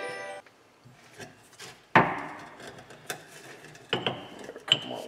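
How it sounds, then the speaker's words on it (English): A hammer whacks an aluminium driveshaft U-joint on a car in a garage with a few sharp metallic blows, the hardest one near the middle and two more toward the end, among quieter clinks and taps. "There are a couple more whacks here."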